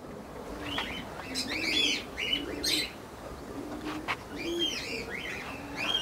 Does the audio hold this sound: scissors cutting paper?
no